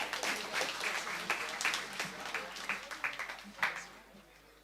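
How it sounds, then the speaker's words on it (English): Audience at a school graduation applauds with scattered, moderately faint clapping, individual claps distinct, with talk underneath. "Give them a round of applause, please."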